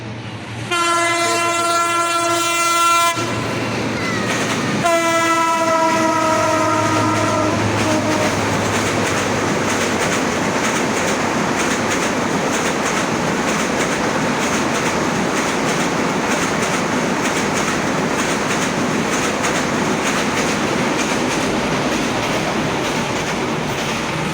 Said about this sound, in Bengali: এই মুহূর্তে ট্রেন যাচ্ছে।